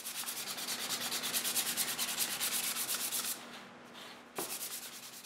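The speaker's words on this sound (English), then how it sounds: "Then I sand up to 320." A wooden game board is hand-sanded with fine sandpaper up to 320 grit, producing steady rhythmic back-and-forth rasping strokes close to the microphone, a brief pause, then more strokes.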